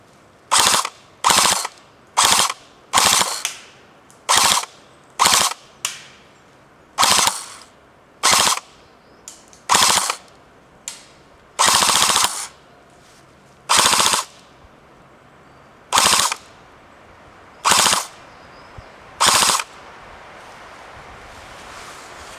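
An ARES M60-E4 MK43 airsoft machine gun fires outdoors in loud, close bursts of rapid mechanical clatter, over a dozen short strings separated by brief pauses.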